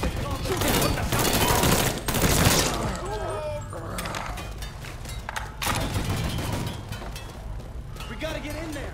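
Dense gunfire in the Mafia 3 video game, rapid bursts of shots and sharp impacts crackling close and loud through the whole stretch, with shouted voices over the shooting.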